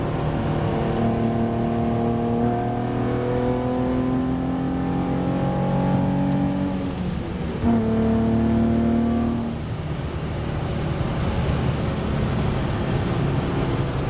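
A Nissan 350z engine drops to fourth gear and pulls hard, its loud droning note climbing steadily, then shifting briefly before easing off into road and wind noise.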